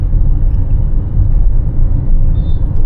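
Manual car accelerating in traffic, a steady low engine rumble rising slightly in effort, close and continuous with road noise and no talk.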